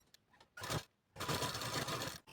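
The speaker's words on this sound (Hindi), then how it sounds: "ऊपर पे रखने के बाद आधा इंच सिलाई मार्जिन देते हुए हमें सीधा सिलाई लगा लेनी है" Sewing machine running a straight seam on blouse fabric with a half-inch seam margin, two bursts of rapid mechanical stitching, a short one then a longer steady run, close and fairly quiet.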